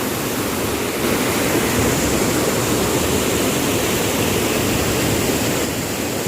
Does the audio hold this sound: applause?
no